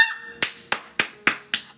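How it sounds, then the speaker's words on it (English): Five sharp, single hand claps at an even, deliberate pace, close and crisp, following a brief faint tonal sound at the start. "I'm clapping for the collective."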